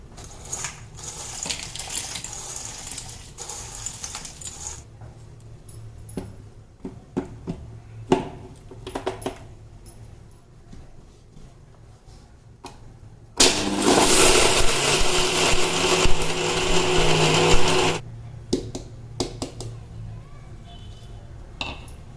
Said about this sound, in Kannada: ಅದನ್ನೀಗ ಮಿಕ್ಸಿಗೆ ಹಾಕ್ಕೊಳ್ಳೋಣ ಬನ್ನಿ